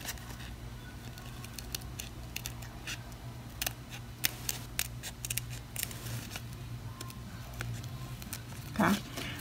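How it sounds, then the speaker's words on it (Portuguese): Small scissors piercing and snipping craft material to cut out a unicorn tiara, a run of quick, sharp close-up snips and clicks in an irregular rhythm over a faint steady background hum. "eu pego a tesoura pequenininha, ó, e furo no meio e venho aqui em direção ao traçado para cortar"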